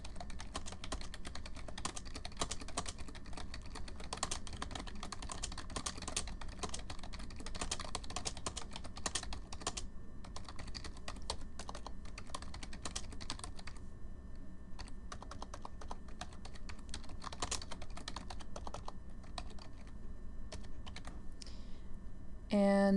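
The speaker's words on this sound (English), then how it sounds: "I'm just now going to type my letter." Steady, continuous typing on a computer keyboard, with dense rapid key clicks running for over twenty seconds as a letter is written. A few clicks stand apart near the end, and no one speaks.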